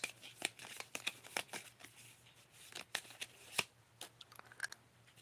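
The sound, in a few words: tarot cards being handled while picking one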